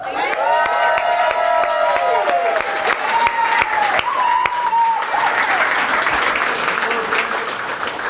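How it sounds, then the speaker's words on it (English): A rally crowd gathered to repeal Pennsylvania's closed primaries claps and cheers, with whoops and a rising shout early on over steady, loud applause that carries on throughout. "Let's give Jared Solomon a round of applause."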